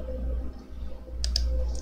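Mouse clicks while playing WoW Classic at a computer, a soft low hum underneath and a quick pair of crisp clicks near the end, close and clear.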